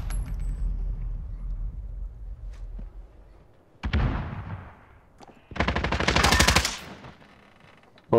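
A light machine gun fires in a Modern Warfare Search and Destroy match, with two sharp rattling bursts cutting through quieter game ambience; the second burst is longer and louder.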